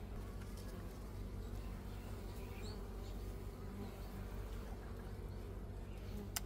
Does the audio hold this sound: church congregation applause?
no